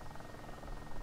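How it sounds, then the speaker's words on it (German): A helicopter approaches in DayZ Overpoch, a dense, steady rotor rumble that fills the short stretch at moderate loudness with no speech over it. "Hubschrauber, ja. Kommt."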